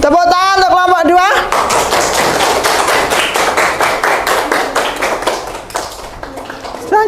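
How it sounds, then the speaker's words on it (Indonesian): Classroom group applause for a student team, a brisk burst of many hands clapping that follows a short spoken line and then tapers off over several seconds. "Tepuk tangan untuk kelompok 2."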